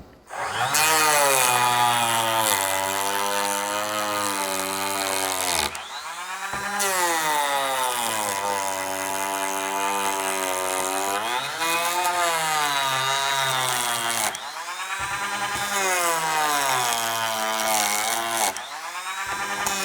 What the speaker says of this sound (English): let's go ahead and run this on full max so you can kind of hear what it does cutting or, you know, making shavings